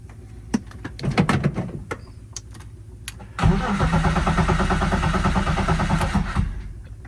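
A car with a recently changed fuel filter is cranked several times, with short clicks and starter bursts at first, then one sustained, loud, rhythmic churn of the engine turning over without catching, close by.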